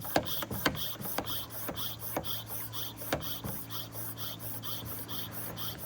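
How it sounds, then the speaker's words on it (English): A large disinfectant pressure sprayer is pumped by hand outdoors: a steady run of about a dozen rhythmic mechanical strokes with squeaky, rasping pulls and small clicks over a low background hum. "And this one you have to pump to get the air out of it."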